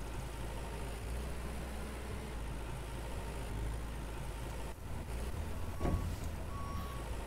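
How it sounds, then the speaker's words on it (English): A tractor in Farmer's Dynasty hauling toward a liquid slurry tanker runs with a steady low engine drone. Faint repeating reverse beeps sound over it, and one brief rising tone cuts in near the end. "I'll take the tractor down to the other liquid slurry tanker and top that off"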